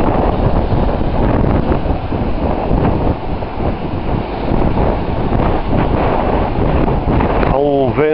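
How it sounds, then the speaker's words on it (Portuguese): Strong wind blowing across a Mediterranean Sea shore makes a loud, steady roar that buffets the microphone for the whole stretch, with a short voice-like sound near the end. "Vento bastante forte soprando aqui."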